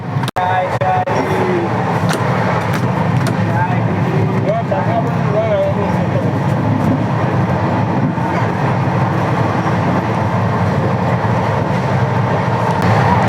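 The Howrah–New Delhi Poorva Express rumbles past close by in a loud, steady roar that holds for the whole stretch, with faint voices underneath.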